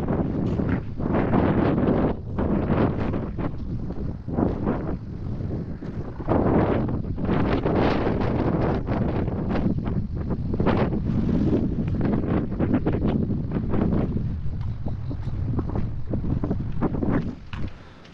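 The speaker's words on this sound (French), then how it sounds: "Avec les oreilles défoncées par le vent" Heavy wind buffeting the microphone on a fort on Porquerolles island, loud low roaring gusts that pulse and drop repeatedly throughout, with no voices.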